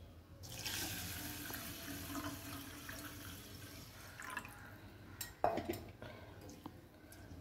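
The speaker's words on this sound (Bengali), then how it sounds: "এই চালটা ভালো করে ধুয়ে নিয়েছি, এবার জল দিয়ে দেব।" Water pours and splashes into a pot of washed rice being readied for boiling, a steady running gush that thins into drips and a few light clinks near the end.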